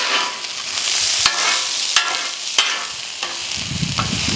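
Scrunchions and onions frying on a Blackstone griddle with a splash of water, a loud steady sizzle broken by sharp metal scrapes from griddle tools.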